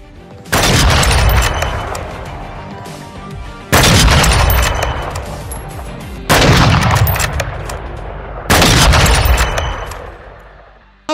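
Four heavy sniper rifle shots from the LAB330 blueprint in Call of Duty ring out one by one at even intervals, each a loud sharp blast that trails off slowly before the next.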